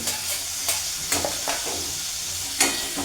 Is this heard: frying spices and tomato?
yes